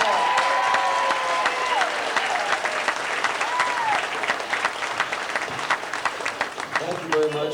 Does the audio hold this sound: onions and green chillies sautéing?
no